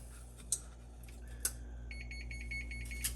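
A kitchen oven beeping to signal it has finished preheating, a few short electronic tones followed by a quick run of repeated beeps over a low steady hum, fairly faint and with no voices.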